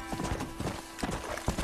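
Horse hooves clip-clop in a quick, steady rhythm as a horse is ridden in the Western action video game Red Dead Redemption, near and clear over a faint game background.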